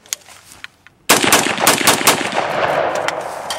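An M4 rifle fires on automatic, a fast, loud, close burst of gunshots that starts abruptly after a few faint clicks of handling and continues densely to the end.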